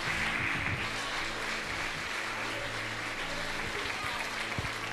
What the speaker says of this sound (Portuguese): Só quem está alegre, aplauda o Senhor